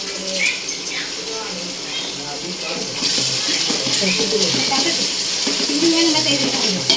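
Onion, tomato, cinnamon and cloves sautéing in oil with turmeric, giving a continuous bright sizzle that grows a little louder halfway through, with voices murmuring faintly underneath.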